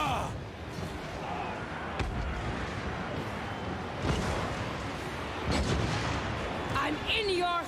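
Mortar artillery fires in a strategy game battle, with several heavy thumping launches and impacts spaced over a busy din of combat noise, while voices call out over the action.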